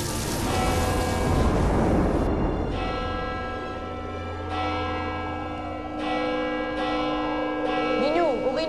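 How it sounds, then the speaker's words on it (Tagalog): A church bell rings out in slow, resonant strokes, each long ringing tone decaying before the next, at moderate distance over a low rumbling background. "Nagpapatunog ng kampana eh."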